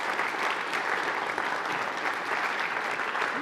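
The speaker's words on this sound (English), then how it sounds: "So let's give Kathy another round of applause." Audience members at an Orem City talk give Kathy another round of applause, a dense, even patter of many hands clapping that stays steady from start to finish.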